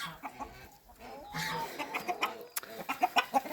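Chickens cluck in short, irregular bursts close by, with some scratchy background rustling and a sharp knock midway.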